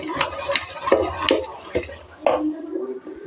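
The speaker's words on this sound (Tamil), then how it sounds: "பருப்பு வெந்துருச்சு, கடைஞ்சிக்கலாம்." Cooked toor dal for sambar is mashed in a pot, giving soft, irregular knocks and scraping clatters of the utensil against the pot, close up.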